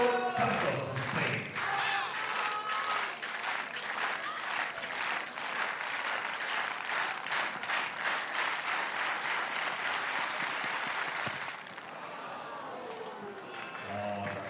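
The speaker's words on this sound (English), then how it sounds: "you can hear the crowd cheering on the long jumpers" A stadium crowd at an athletics championship claps in a rhythmic, building pattern to cheer on long jumpers, then settles into a quieter, distant murmur, with a commentator's voice over parts of it.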